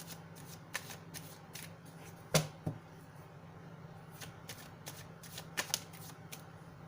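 Tarot cards are riffled and shuffled by hand, producing soft, dense papery flutters in short bursts with a couple of sharper snaps where cards slip out, all quiet and close against a low steady hum.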